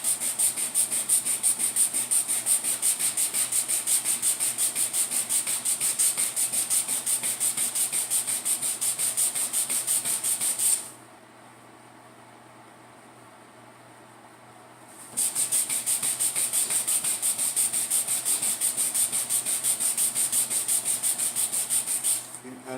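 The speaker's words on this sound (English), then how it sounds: "there's these fine dust particles falling off as I sand" Hand sanding across a cracked plastic car bumper gives a rapid, even scratching rasp, loud and close. It stops for a few seconds, then resumes at the same brisk rhythm.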